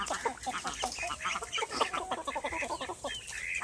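Backyard poultry, chickens along with ducks and turkeys, cluck and squawk in a busy, continuous chorus while being herded into their pen for the night, fairly faint and close.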